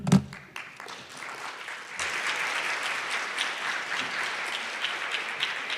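An audience at a maternal and child health conference breakout session applauds the speaker after a talk on preconception care; a few scattered claps at first quickly swell into sustained, full applause that continues steadily to the end.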